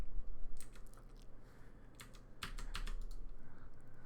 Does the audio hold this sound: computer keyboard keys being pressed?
yes